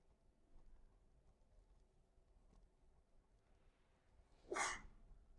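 A single sneeze bursts out near the end of a quiet lecture hall recording, short and sharp after several seconds of near-silence.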